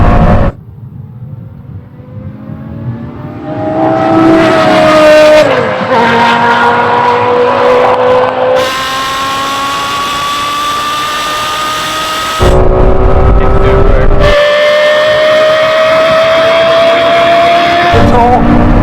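Porsche Carrera GT and Lexus LFA drag racing, high-revving engines climbing through gears with rising whines and sharp shift breaks, loud and continuous, with people talking over it.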